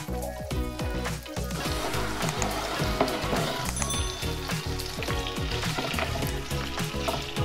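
About 50 grams of butter sizzles and crackles steadily in a pan on medium heat, a dense, continuous frying hiss with tiny pops, close and alone without talk.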